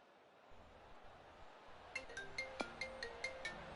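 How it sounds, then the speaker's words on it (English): A mobile phone ringtone plays during a live PGA golf game session, a bright repeating chiming melody that starts partway through and pulses steadily over a faint background hiss. "Oh, hang on, my phone's ringing."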